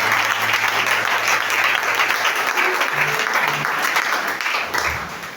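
Church congregation at a conference gathering applauds loudly and continuously, a thick wash of clapping with faint voices and tones beneath, easing off slightly toward the close.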